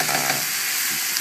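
Stir fry sizzling in a pan for Thai Indian curry shrimp makes a loud, continuous, close-up hiss without a pause or any voice.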